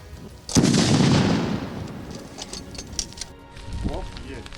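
A sudden loud burst of rifle fire with single blank shots cracks out during a military assault course drill, then a rolling rumble slowly fades, followed by scattered fainter pops and distant shouting.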